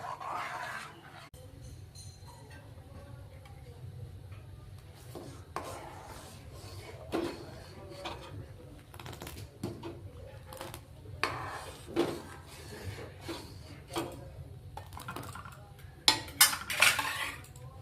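Soaked sago stirred in a pot of milk with bay leaf and cardamom for sweet payesh: soft scraping strokes and occasional light clinks of the spoon against the pot, quiet and close, with sharper knocks near the end.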